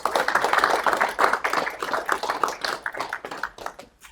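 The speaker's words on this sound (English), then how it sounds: "let's give him another round of applause" Crowd applause at a business event on multifamily real estate and finance, steady, dense clapping from many hands through the whole stretch, fading slightly at the end.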